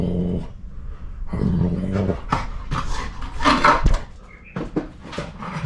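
A dog close by growls, barks and whimpers in agitated bursts, with a person's voice briefly mixed in.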